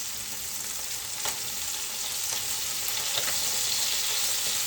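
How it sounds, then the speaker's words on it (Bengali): Fresh local puti fish (small Bengali freshwater fish) frying in hot oil, a steady broadband sizzle throughout with a few soft utensil clicks and crackles, close and fairly loud with no talking. "তো তার জন্য এখন আমি পুঁটি মাছ ভাজা করছি গরম ভাতের সাথে যেন খেতে পারে।"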